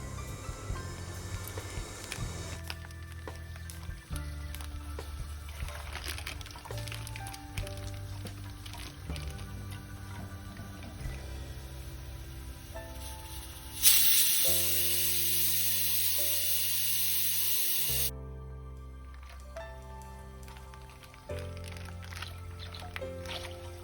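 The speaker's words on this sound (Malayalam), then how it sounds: "ഇനി ഇതിലോട്ട് 1 ലിറ്റർ പാല് ചേർത്ത് കൊടുക്കാം" Milk poured into hot caramelized sugar syrup for palada payasam, making a loud, steady hissing sizzle that lasts about four seconds in the middle, with background music playing throughout.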